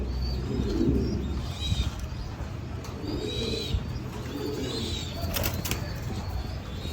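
Fancy pigeons coo in repeated soft throaty bursts close by, with a brief flutter of wings and a few chirps amid a busy outdoor background.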